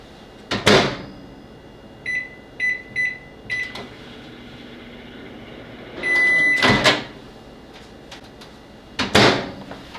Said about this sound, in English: So you just need to put it in the microwave for like 15 seconds.